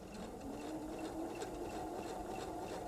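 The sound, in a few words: sewing machine stitching fabric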